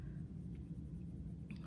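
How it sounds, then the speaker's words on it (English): Colored pencil shades on paper in a soft, steady scratchy rub that keeps changing direction, quiet and close over a low room rumble, with no voices. "I'm sort of changing the direction of my color pencil"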